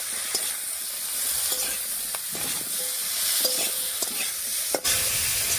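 Salt and turmeric stirred into frying snakehead fish curry with potato, brinjal and stems, a continuous close sizzle punctuated by repeated spatula scrapes and taps against the pan, with no voices.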